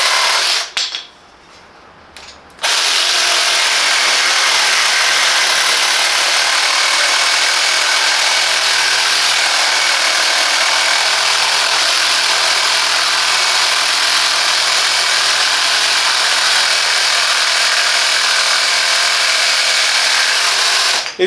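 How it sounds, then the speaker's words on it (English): A Parkside 20V cordless jigsaw with pendulum action starts after a short quiet moment and then runs steadily, a loud, close, continuous whining buzz that holds to the end. "this jigsaw provides the performance and features needed for precise and efficient cutting"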